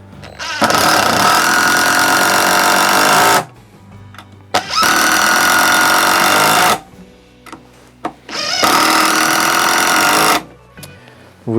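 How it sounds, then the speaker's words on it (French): A Stanley FMC645B impact driver with a PZ3 bit drives screws in three long, loud bursts of rapid hammering buzz, each lasting a few seconds, separated by short pauses filled with small clicks and handling knocks. "Vous voyez quand même un vissage super efficace"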